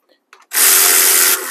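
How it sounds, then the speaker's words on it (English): Power ratchet driving HEMI cylinder head bolts, a few faint clicks followed by a loud sustained whirring buzz that drops slightly at the end, very close. "Once you have all the head bolts in, you can just use a ratchet to"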